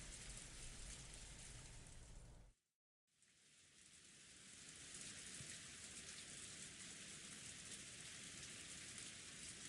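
Steady rain falling on a surface, a dense even hiss that cuts out abruptly for a moment partway through, then resumes and holds at a constant level with no voices.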